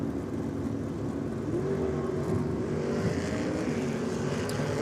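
Two T-bucket drag cars sit on the start line, a Holden six-cylinder against a small-block Chev, their engines rumbling and rising steadily together at moderate distance with no voices.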